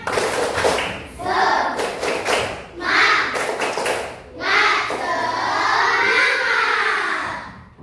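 A fifth-grade elementary class performs a rhythmic spirit clap in the classroom. Crisp, sharp group claps come in short patterned bursts, mixed with children's voices chanting along, fairly close and loud.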